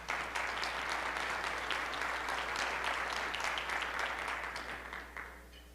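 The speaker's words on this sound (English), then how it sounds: "Let's give them a round of applause." An audience at a university educational leadership session claps for event sponsors in a full, even burst of applause. It is fairly faint overall and tapers off in the last second, with a low steady hum beneath.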